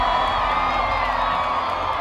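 A crowd of costumed partygoers packed into a fraternity house cheers wildly with whoops and shouts, a dense, continuous roar of many voices close around.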